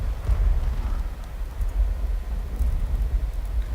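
Thunder rumbling with steady rain in the video game CS:GO, a continuous low roll that stays loud and fairly even for the whole stretch, with faint scattered clicks on top and no voices.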